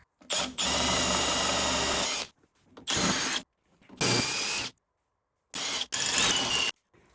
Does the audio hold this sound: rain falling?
no